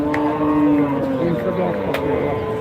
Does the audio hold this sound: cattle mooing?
yes